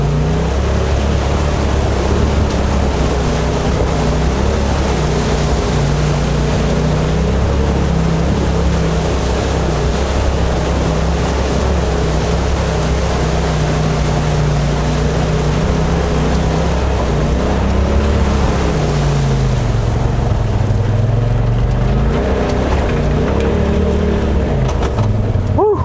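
A 2018 Polaris RZR XP Turbo S pushes through a rushing flooded river, its engine droning loud and steady beneath constant churning water splash, with pitch shifts as it works through the current.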